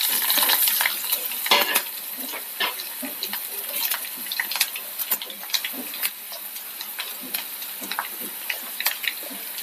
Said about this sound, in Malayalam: ഇതിലേക്ക് നമുക്ക് ചുമന്നുള്ളി ചേർക്കാം.